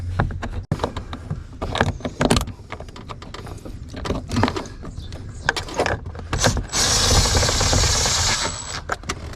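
Mechanical whirring and clicking bursts of screws being driven in inside a car's damaged interior, intermittent close-up tool runs with rattles between them, ending in a longer sustained whir.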